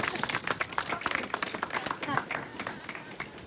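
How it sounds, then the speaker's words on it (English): A small outdoor crowd at a Portuguese flag-raising claps in a steady patter of hand claps, moderately loud and close, lasting a few seconds with voices mixed in. "give her a round of applause"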